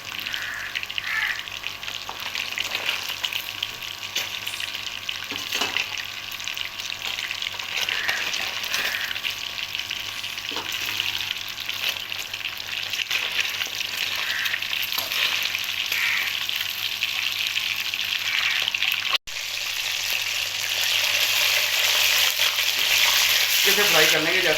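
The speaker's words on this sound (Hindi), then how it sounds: "मछली को फ्राई होते हुए तकरीबन 4 से 5 मिनट गुजर गए हैं।" Fish fries in hot oil in a pan over high flame, giving a steady, crackling sizzle that runs throughout, with brief stirring or shifting noises and one short cut near the end.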